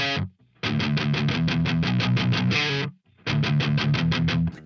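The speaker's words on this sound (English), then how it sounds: "I'm going to use some single notes that are chugged" An electric guitar plays a distorted single-note riff, chugging in fast, even palm-muted pulses in two bursts separated by a short gap, loud and up front with no voices.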